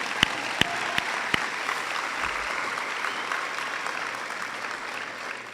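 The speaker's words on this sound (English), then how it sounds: "and yeah, you can clap." Graduation crowd applauding the 2016 graduating class, steady mid-level clapping with four sharp, evenly spaced loud claps up front before settling into an even wash.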